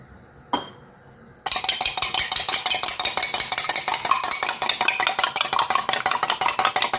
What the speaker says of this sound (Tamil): ரெண்டு முட்டை பாருங்கள் உடச்சி ஊற்றிக்கிறேன்